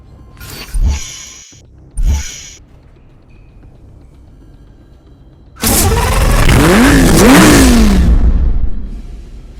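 A Lamborghini V12 supercar in the Need for Speed Hot Pursuit racing game: two short bursts open the clip, then after a pause a loud, sustained engine rev climbs and falls in pitch for about three seconds, close and alone.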